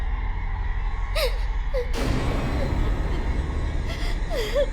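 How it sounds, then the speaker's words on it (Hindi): A strange, eerie crying sound in a horror TV drama scene, with wavering whimpering cries coming and going over a steady low drone and a sudden swell of atmospheric noise in the middle. "ये अजीब से रोने की आवाज कैसी?"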